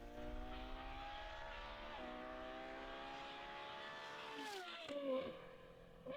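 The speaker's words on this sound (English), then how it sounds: "That's a proper engine." A car engine revs hard with a rising, harmonic-rich tone that sweeps up and drops near the end, loud and alone without talk.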